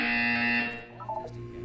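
A loud synthetic buzzer tone from the video game Portal 2 sounds for about half a second, then fades, leaving softer electronic tones behind.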